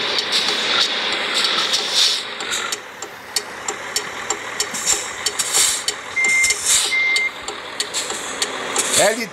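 In the Euro Truck Simulator 2 video game, a truck runs its engine as reversing beeps sound in short regular pulses, joined by game ambience and scattered clicks, with someone talking over it.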